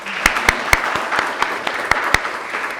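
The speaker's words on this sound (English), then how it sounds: "Round of applause for yourselves." Audience applause at a royalty reality show gathering, a steady dense wash of clapping with several sharp, louder individual claps standing out near the front, continuing without talk.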